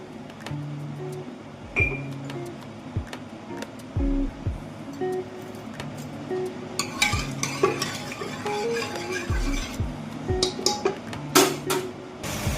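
A utensil mashes and stirs cooked mixed dal in a pot, giving repeated soft scraping and knocking against the metal, close and steady with occasional sharper clinks.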